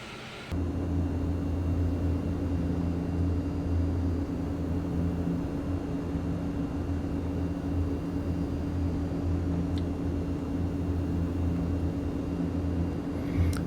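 Steady engine drone of an MU-2 twin turboprop in a flight simulator game, taxiing at Colorado Springs, with a constant low rumble and hum running unbroken and fairly loud throughout, no voices.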